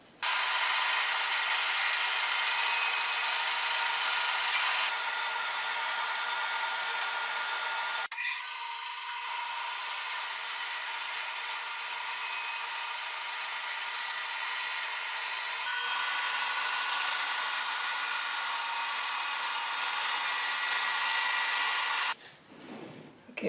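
A saw with a 3/4-inch, 10-teeth-per-inch blade cuts steadily through a wooden board clamped against the fence, a loud continuous high whine and rasp that shifts pitch partway through, then stops abruptly near the end.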